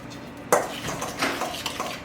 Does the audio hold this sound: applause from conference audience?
no